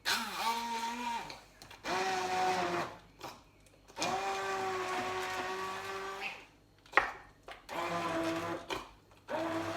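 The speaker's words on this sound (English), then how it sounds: "So, good blitz it with a stick blender" A stick blender whirs loudly in several long bursts, its motor pitch shifting as it churns thick butterbean puree, with short pauses and a clunk between runs.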